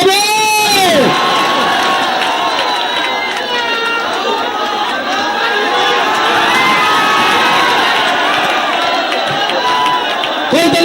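A large outdoor fair crowd at Naf Marine Park in Teknaf erupts in loud, sustained cheering, with children shouting and whooping over dense chatter throughout, close and overwhelming.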